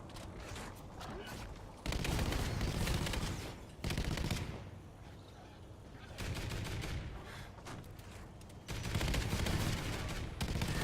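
A portable turret firing in the video game Mayday, repeated bursts of rapid automatic gunfire separated by short pauses, loud and close, with a voice heard now and then.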